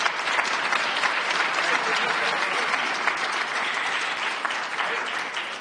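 Sustained applause from a conference audience honouring Fiji's Prime Minister, a dense, steady clatter of many hands that stays loud and even throughout with no voices on top.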